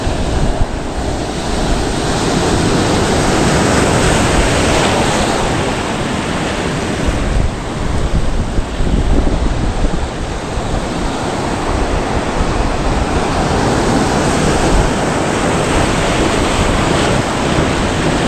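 Sea waves crash and wash steadily onto a rocky Konkan shore during seaside fishing. The surf is loud and unbroken, with wind buffeting the microphone and no voices.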